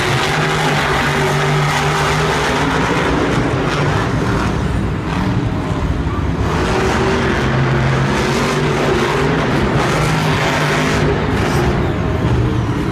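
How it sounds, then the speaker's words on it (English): Monster trucks race at a Monster Jam event in Glendale, their engines a continuous loud roar with surging revs over broad arena noise and crowd din. "Now we have Colton Eichelberger and Max D going up against Scott Buto on the Team Hot Wheels Firestorm"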